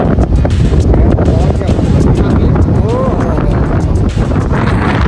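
Strong wind buffets the microphone in a loud, continuous roar with gusty bursts and rumbling, drowning out most other sound.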